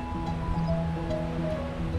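Gentle waves wash against the shore of the Sea of Galilee beside a lakeside pathway, a soft steady lapping heard alone at moderate distance with faint tonal background hum.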